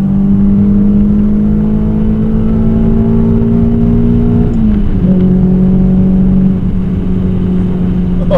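Toyota MR2 engine held at steady revs, a loud continuous mid-pitched drone close by that dips briefly around the middle and then settles back to a slightly lower sustained tone.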